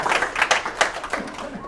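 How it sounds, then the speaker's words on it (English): Conference audience at a Kubernetes lightning talk clapping, a short burst of scattered, uneven handclaps of moderate loudness with no talk over it. "Clap for yourselves."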